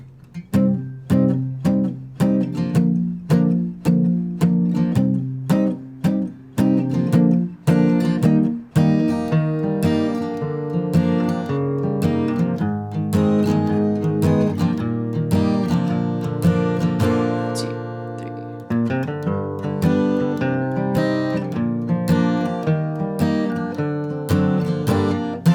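Acoustic guitar strummed through the verse of a song into the pre-chorus, steady down-up chord strokes with a bright, close, full sound that continues unbroken throughout.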